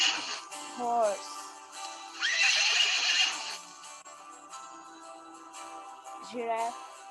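A horse neighs and whinnies in a few loud, quavering bursts, with a brighter, noisier call in the middle and another short whinny near the end, heard alone.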